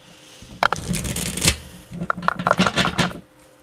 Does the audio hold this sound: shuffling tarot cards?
yes